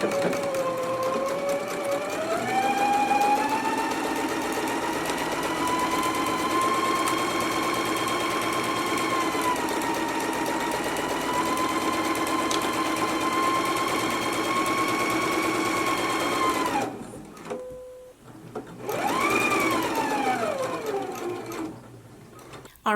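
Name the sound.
sewing machine stitching a seam on a twist-front top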